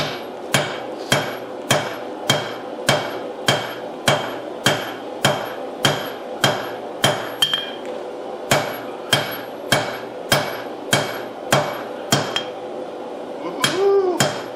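Hammer forging and drawing out a 12-layer damascus steel billet: a steady series of sharp, ringing metallic strikes in an even rhythm, loud and close, with a brief pause midway and a ringing clang near the end.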